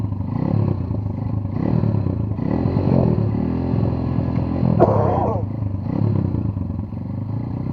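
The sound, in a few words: Chinese enduro motorcycle engine revving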